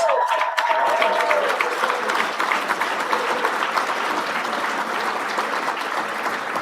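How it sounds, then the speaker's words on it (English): Sustained applause fills an awards gala honoring the year's Top 50 CEOs, many hands clapping in a dense, continuous roar after a brief voice at the start. "Another round of applause for Atlantic Business Magazine's 2026 Top 50 CEOs"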